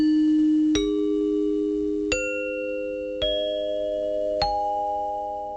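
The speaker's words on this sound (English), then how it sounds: "would strike a 7-note chime sequence" NBC broadcast chimes ring out as four clear, bell-like struck notes, each one higher than the last. Every tone lingers and slowly decays under the next.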